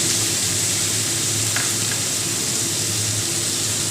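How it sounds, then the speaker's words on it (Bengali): Onions and yard-long beans frying in a pan as a soaked chili and turmeric paste goes in, giving a steady dense sizzle that holds loud and close throughout, with no voices. "এবার আমি যে লঙ্কার আর হলুদ গুঁড়োটা ভিজিয়ে রেখেছিলাম সেটা দিই"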